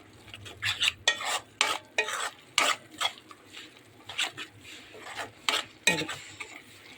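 Bitter gourd gojju masala roasting in oil in a pan, heard as rhythmic scraping strokes of a spoon stirring against metal, close and repeated about twice a second over a faint sizzle.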